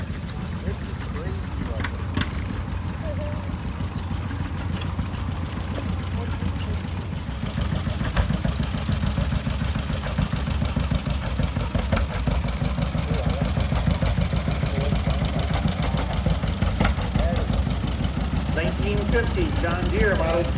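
A 1947 John Deere BO tractor engine runs steadily at a tractor parade, a continuous low mid-range drone with a faint pulsing throb that holds at even loudness throughout, carrying over crowd background.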